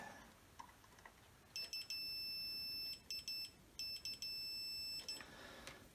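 A multimeter in continuity mode beeps in a steady tone while testing a fuse inside a faulty Bowers & Wilkins Zeppelin speaker, sounding in several bursts of varying length with short gaps, close and clear over quiet background.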